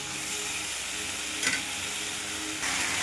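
Fried potatoes being stirred in a pan while cooking down for a prawn and ash gourd curry, giving a steady close sizzle with a soft scrape of stirring and a brief louder clatter partway through.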